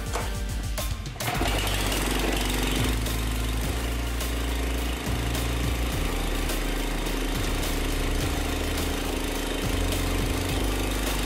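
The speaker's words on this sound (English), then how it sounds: "I started the mower to make sure everything was working properly." Engine of a Cub Cadet 33-inch wide cut walk-behind mower starting up and running, a loud steady throbbing drone close by after a brief sputter at the start.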